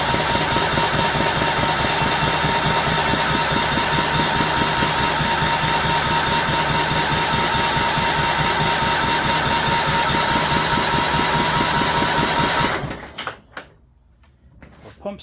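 A 15 HP Kohler engine on a John Deere LT150 riding mower runs at a loud, steady, close idle with a rhythmic throb, then cuts out abruptly near the end, leaving scattered clanks.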